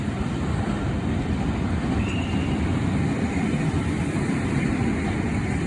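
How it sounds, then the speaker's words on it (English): Avanti West Coast train on the London Euston to Glasgow service at Carlisle, a steady broad rumble and rush of a moving train, continuous and moderately loud throughout. "I'll film the Avanti going, then I'll call it a day."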